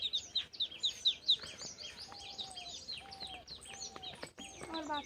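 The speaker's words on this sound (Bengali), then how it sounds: "হাঁসের বাচ্চাগুলো ঢুকিয়ে নিয়ে নিয়েছি এবার পাঁচ হাজার বাচ্চাগুলো বের করে নেবো" Newly hatched ducklings peep in quick high chirps close by, several overlapping calls over a busy background of other small birds.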